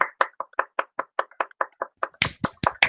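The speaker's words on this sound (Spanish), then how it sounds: "primero un aplauso" Audience applause at the end of a lecture on the space environment and satellite electronics, heard as a sparse run of separate, fairly sharp claps that thicken and grow louder toward the end.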